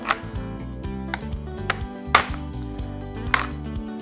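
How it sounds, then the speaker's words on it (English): A knife chops chocolate bars into chunks on a cutting board, with a series of sharp, close taps at an irregular rhythm over a quiet background. "So we just keep chopping here, almost done."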